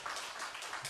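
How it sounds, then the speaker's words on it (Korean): A church congregation at a Friday all-night prayer service claps in praise, a brief, fairly faint burst of applause with no voices over it. "하나님께 영광의 박수 올립니다."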